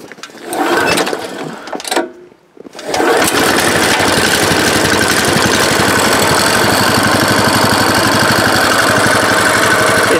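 A small cold engine, choked, is pull-started with a couple of tugs, then catches and runs steadily at a loud, rough, even idle with a dense mechanical chatter and no talk.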